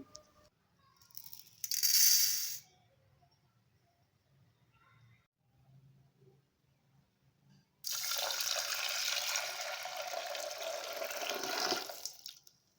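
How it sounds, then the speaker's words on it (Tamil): Moong and toor dal lentils are washed in water, with a brief splash early on and then a longer stretch of loud sloshing and rinsing toward the end, quiet in between. "எடுத்துக்கிட்ட பருப்பை நல்லா சுத்தமாக கழுவிக்கலாம்"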